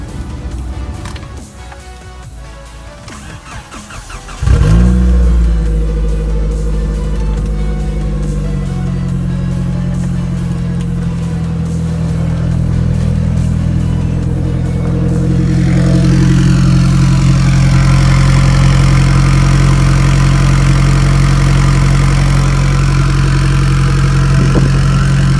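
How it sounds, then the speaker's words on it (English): A DSM Eclipse GSX with a side exit exhaust starts up with a sharp burst, then idles and revs in a deep, loud, droning burble that holds steady and close for the rest of the clip. "Let's see how this GSX sounds now with the side exit."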